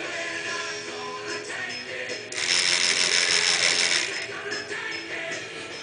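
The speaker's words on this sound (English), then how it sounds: "That's a 9-volt relay taken out of a solar light." A 9-volt relay salvaged from a solar light, driven by a 555 timer and decade counter, rattles in rapid continuous clicking that swells louder partway through, alongside a DVD drive mechanism.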